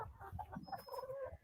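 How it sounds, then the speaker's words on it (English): Backyard chickens that are laying eggs cluck and croon in short, soft bursts, fairly close but quiet, with a faint rumble of background noise. "the chickens, they're laying eggs now"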